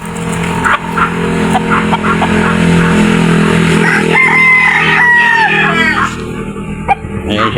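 Gamecocks kept as fighting-rooster breeding stock crow repeatedly in a yard, the drawn-out calls rising over steady background noise and engine hum, with a later crow standing out near the end.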